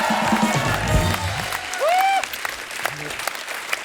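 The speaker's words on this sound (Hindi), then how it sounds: "जोरदार तालियां हमारे मेहमानों के लिए।" A studio audience on a Hindi comedy talk show breaks into loud applause for the guests, a dense burst of clapping that fades after about two seconds, with a brief whistle and voices mixed in.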